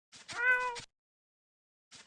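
A cartoon cat meows in the game Hoshi no Shima no Nyanko: a short clear meow up close, then silence, then the start of another meow.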